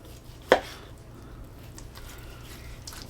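A knife cuts through a flank steak on a cutting board on a bias: a single crisp chop lands, followed by quiet kitchen ambience.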